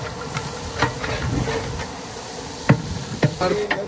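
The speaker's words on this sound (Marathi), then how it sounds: "परत एकदा कांदा टाकलाय थोडासा." Onion is added again to a hot pan of pulav with chili, giving a soft, steady sizzle and hiss with a few sharp crackles and pops near the end, heard close up with no talk.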